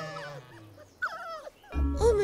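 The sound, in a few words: dogs barking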